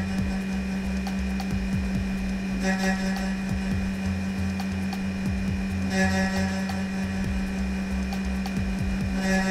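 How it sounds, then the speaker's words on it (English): A machine shaves metal off a pool cue with a constant mechanical whine, broken by two rasping cutting bursts and scattered small clicks. "We just want to shave off that metal a little bit so it doesn't crash."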